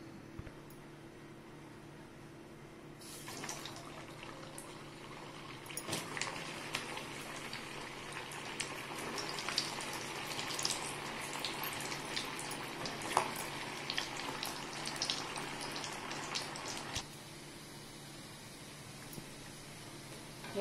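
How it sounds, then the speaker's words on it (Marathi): Sabudana vadas sizzle in hot oil, a steady crackling hiss that starts a few seconds in, holds for most of the stretch and fades near the end, with no talking. "तेल तापलंय, आता आपण हे वडे तेलामध्ये सोडून घेणार आहे"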